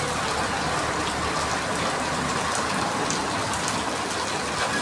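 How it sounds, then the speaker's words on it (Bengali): Heavy morning rain pours down in a dense, unbroken roar of drops hitting surfaces, loud and steady throughout with no voices. "সকাল সকালেই ঝুম বৃষ্টি হচ্ছে"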